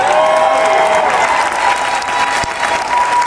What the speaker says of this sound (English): Are you gonna clap for real or what?